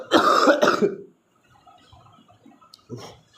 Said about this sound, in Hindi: वो थोड़ी खांसी हो रखी है